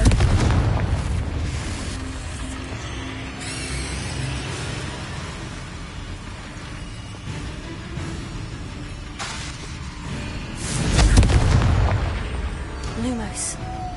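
An explosive Confringo spell blast in Hogwarts Legacy: a fiery boom and crackle among ongoing game effects, with a louder burst swelling late before fading.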